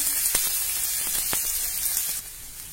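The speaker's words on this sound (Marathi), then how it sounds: "हिरवी मिरची आणि हा थोडा तांबूस परतून घेऊया।" Green chillies and onion frying in a wide, heavy pan, a steady close sizzle with a few sharp crackles and spits, the hiss dropping slightly near the end.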